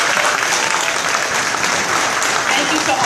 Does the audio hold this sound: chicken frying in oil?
no